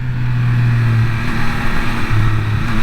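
A 2023 Triumph Speed Triple 1200 RS motorcycle engine while riding, a loud steady low drone with wind rush, holding constant with slight pitch rises and dips throughout.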